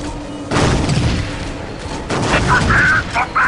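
Battle gunfire in the video game Warhammer 40K Dawn of War Dark Crusade, with repeated loud booming bursts and rattling volleys, interrupted by short tonal effects near the end.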